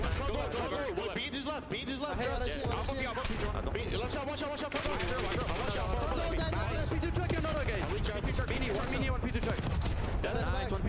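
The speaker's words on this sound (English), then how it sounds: "now they're shooting" Rapid gunfire crackles through a Valorant Champs match with dense bursts of shots and rattling automatic fire, while voices talk over the steady loud action.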